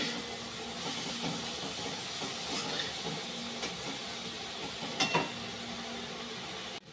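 Masala spices fry in a pan with a steady, soft sizzle and hiss, interrupted now and then by faint clinks and scrapes of stirring.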